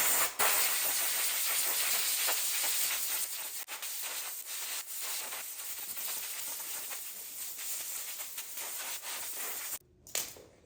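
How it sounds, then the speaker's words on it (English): A compressed-air nozzle blows air through a Scag Patriot mower's air filter, a loud, continuous close-up hiss lasting about ten seconds with slight fluctuations before cutting off briefly near the end. "I am going to take my air compressor and blow some air through it and see if I can get out some of this dust"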